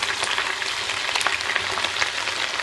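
Ginger garlic paste fries in a pan over lightly browned onions for keema biryani, a steady, close crackling sizzle that holds evenly throughout with no voices.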